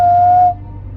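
A single steady, high whistle holds one pitch for about half a second, then fades quickly into a faint hum.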